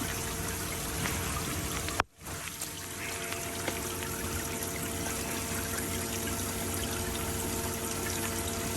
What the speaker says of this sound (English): It's a nice fan of water coming in. It's dripping at the top.